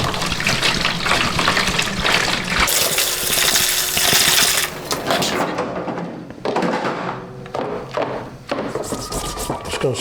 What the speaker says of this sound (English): I'll get some water in there.